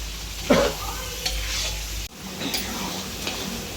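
Masala spices roast in a pan for a paneer dish while a spoon stirs and scrapes, with a low, steady sizzle under the strokes. A brief voice is heard at the start, and the sound is close and fairly quiet.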